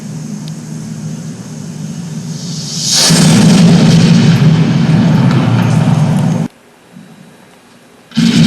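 500 pounds of ammunition goes off in a loud explosion, a heavy roaring blast that sustains for several seconds before cutting out, followed by a rumbling aftermath.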